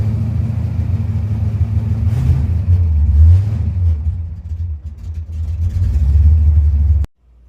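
Ford Mustang V8 with an Edelbrock carburetor and straight-through mufflers idling loud and close, a deep steady rumble that swells briefly with light revs before abruptly cutting off at the end.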